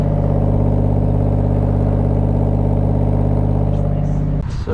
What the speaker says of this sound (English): You hear the exhaust?